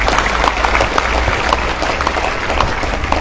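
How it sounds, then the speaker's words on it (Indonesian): A large crowd at an Islamic religious gathering claps for the santri, the applause loud, dense and steady throughout, with individual sharp claps standing out in the mass. "Tepuk tangan buat santri"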